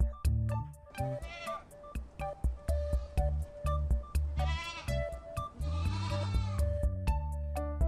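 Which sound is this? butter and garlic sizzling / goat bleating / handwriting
goat bleating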